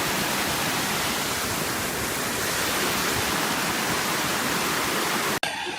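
Water rushes down a low-flowing forest waterfall at Oruppan Kettu near Palakkad, Kerala, a dense, steady hiss that fills the whole clip before cutting off abruptly near the end.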